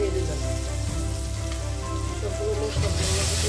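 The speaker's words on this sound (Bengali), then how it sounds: "ভালোভাবে মশলাগুলো ভেজে নিয়ে স্বাদ মতো লবণ দিয়ে দিলাম" Spices frying in a pan for a prawn and bottle gourd greens dish give off a steady, close, rain-like sizzle that holds evenly throughout.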